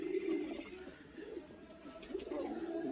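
Pigeons at a breeder's set-up coo in soft, rounded, repeated phrases close by, a few throaty calls rising and falling over quiet background noise, with no talking.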